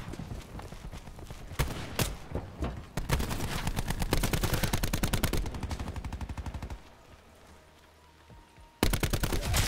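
Rapid automatic gunfire rattles in Call of Duty Zombies, dense bursts of shots rolling on for several seconds, then a short lull before another loud burst.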